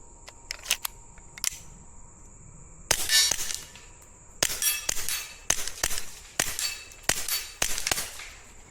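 Suppressed shots from a Smith & Wesson Victory .22 pistol firing subsonic suppressor rounds: about eleven sharp, fairly quiet cracks, a few spaced early then a steady string of evenly paced shots with a metallic action clack, no talking.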